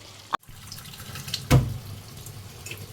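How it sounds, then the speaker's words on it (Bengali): A little water splashes into a pan of fish curry, one short pour in the middle of a quiet, steady kitchen background. "এবারে আমি একটুখানি জল দিয়ে দিলাম সামান্য পরিমাণে"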